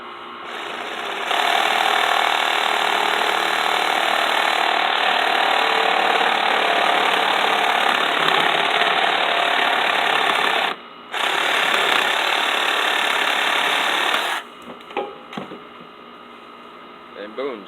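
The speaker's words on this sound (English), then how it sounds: "put your sawzall, and you're just going to cut it flat down." A reciprocating saw (Sawzall) cuts straight down through PVC pipe, a loud continuous buzzing drone lasting over ten seconds with one short pause before stopping, followed by a few small clatters.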